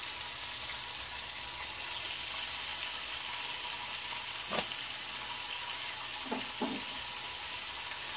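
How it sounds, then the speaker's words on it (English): Bacon frying in a pan gives a steady close hiss of sizzling throughout, with a few sharper pops and spatters near the end; no talking. "Now I'm going to add in my bacon. And you hear that sizzles?"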